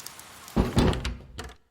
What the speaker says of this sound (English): Step inside so I can close the door.